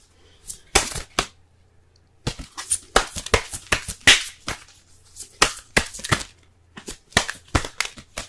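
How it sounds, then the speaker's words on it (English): Romance Angels tarot cards being shuffled close up, bursts of crisp riffling and slapping in irregular clusters separated by short quiet gaps, no talk. "Let's go ahead and pull some Romance Angels cards for y'all this week."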